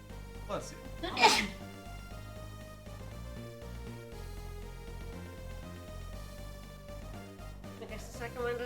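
A close, abrupt sneeze bursts out over continuous video-game background music from Golden Sun 2, followed by a faint trailing breath.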